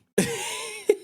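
A voice imitates a cough with one drawn-out, rasping burst and a short, sharp second burst just after it, close and loud with no other sound.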